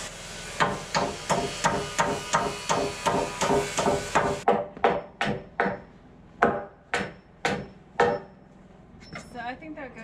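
Repeated hammer blows striking wooden roof rafters, a fast steady series of sharp knocks that slows into spaced heavier strikes, close and loud.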